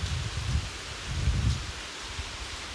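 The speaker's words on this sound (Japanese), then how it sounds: "あれこれガンガン降ってる、マジで雨" Heavy rain pours steadily beside a flooded tunnel, a dense broadband hiss with low rumbling surges, continuous and close, no voices.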